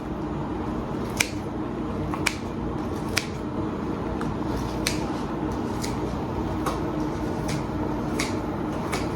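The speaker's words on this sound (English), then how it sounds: "I'll use my scissors a little more and just snip inside the cup to make sure there are no whole leaves" Scissors snipping cilantro leaves inside a cup for a taco pasta garnish, a series of sharp, brief clicks at irregular intervals under a steady background hum.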